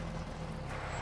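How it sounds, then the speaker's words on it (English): A truck rumbles by in a Metal Gear Solid V game scene, a faint low engine drone with a steady hum, distant and without talk. "Yeah, I hear a truck."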